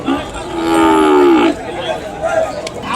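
Ongole cattle at a weekly cattle market in Kodada: one loud, drawn-out moo rings out close by, followed by a shorter, fainter low call.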